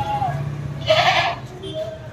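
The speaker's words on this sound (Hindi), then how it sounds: "काफ़ी बड़ा बकरा है" A large male goat being sold at a Bhopal goat market gives a loud, short bleat lasting about half a second, with voices and market noise around it.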